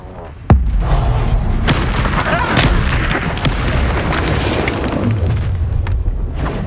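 A Confringo blasting spell goes off in the Hogwarts Legacy battle arena, a sharp explosive boom at the start that then gives way to dense, continuous rumbling spell noise and crackles over game music and effects.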